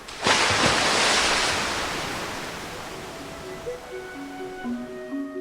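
Ocean surf as a whale leaps back into the sea: a loud broad wash of breaking wave rising fast and slowly fading, with soft musical tones creeping in toward the end.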